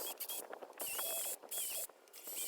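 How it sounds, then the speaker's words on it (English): Oscillating multi-tool cutting notches into wood for a small dog ramp, a fast buzzing rasp in short bursts with brief pauses between cuts, fairly close and moderately loud, with no talking. "So I've got an oscillating tool."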